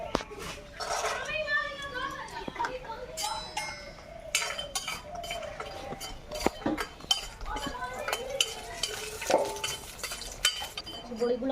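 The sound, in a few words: frying lentil dumplings (bori) in a wok, utensils clinking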